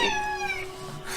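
A pet female cat meows once, clear and close, in a long drawn-out call that trails off, with no voices over it.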